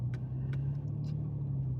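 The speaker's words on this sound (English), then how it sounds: "Look at this little tiny bitty car before me, in front of me." A small, compact car passing on a busy road, heard as a steady low engine rumble throughout, close and fairly loud, with a few faint higher clicks and ticks over the top.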